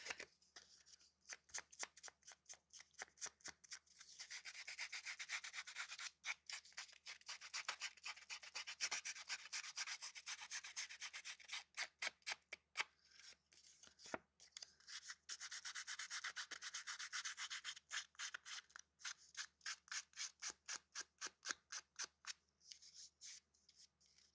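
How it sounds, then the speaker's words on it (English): A sander works over junk journal cover art in quick repeated rubbing strokes, a dry, close, rasping texture that pulses on and off throughout. "I'm going to take my sander and just kind of get some of the big chunks off"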